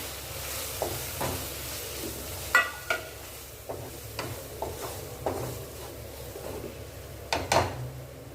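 Spiced masala of chilli powder and curry masala fries and is stirred in a pan for a thick salna, quiet scraping strokes and light clinks under a soft sizzle, with a couple of sharper knocks.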